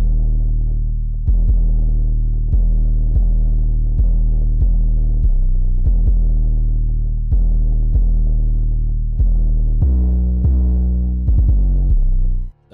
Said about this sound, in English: This is what the 808 sounds like.